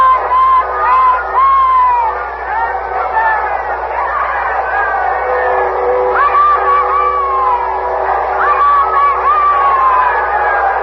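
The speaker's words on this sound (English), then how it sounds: "We'll open our microphones outside now and let you hear the crowd." Crowd outside the gates of Windsor Castle, a dense mass of shouting and cheering voices with rising calls and whoops, loud and continuous.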